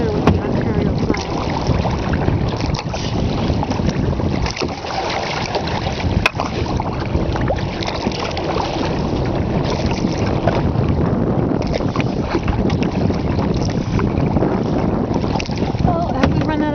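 Kayak paddling along a lakeside past cottages, with steady water wash and heavy wind buffeting the microphone throughout, a continuous loud rush with no clear breaks.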